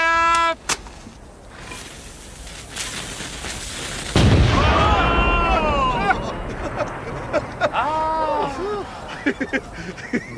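Cannon fire in an audio drama: after distant shouting, a loud, deep boom erupts and rolls on, followed by a chaotic crowd of voices, scattered cracks and rumbling.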